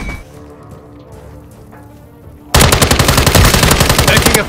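Sustained automatic machine gun fire in Call of Duty: Modern Warfare bursts in loud and close after a quiet stretch of faint background noise, a dense rapid rattle of shots continuing to the end.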